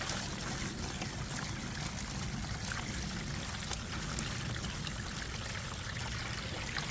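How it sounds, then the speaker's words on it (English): Water pours steadily and continuously from a bucket into potting mix, a broad rushing splash that holds even throughout with no talking. "I'm just going to add the water"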